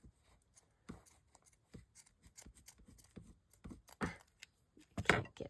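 Scissors snipping craft paper scraps in quick, irregular, quiet cuts close by, with a few louder snips near the end.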